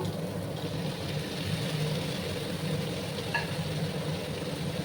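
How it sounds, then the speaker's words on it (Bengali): Cabbage curry with spices is stirred and scraped in a hot pan, a steady sizzling hiss with soft scraping underneath and one brief metallic clink near the end, moderately close and without any talking. "দিয়ে সমস্তটা মশলার সাথে মিক্স করে নিচ্ছি"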